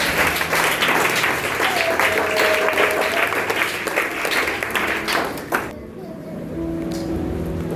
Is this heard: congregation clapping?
yes